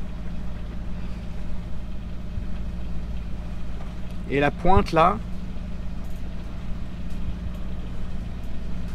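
A sailboat motors off Lanzarote under engine power: a steady, low engine drone runs throughout, with someone speaking briefly near the middle.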